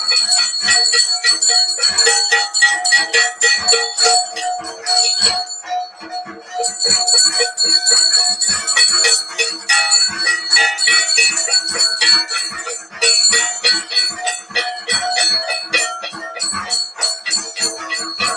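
A bell rung during a Durga puja celebration at a grand puja festival, struck in a fast, steady rhythm of bright metallic clangs that continue loudly with only brief pauses.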